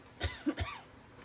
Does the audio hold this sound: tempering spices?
no